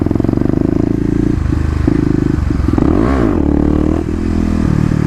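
A Kawasaki KLX250 motorcycle rides in second gear, its engine thrumming loudly and close with a steady pulsing note, briefly rising and falling in pitch near the middle as the throttle changes.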